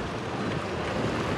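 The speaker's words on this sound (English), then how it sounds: "this is the highest point on the ship, and it is very windy" Strong wind roars steadily across the highest open deck of the Carnival Conquest cruise ship, a dense, loud buffeting rush close to the microphone with no pauses.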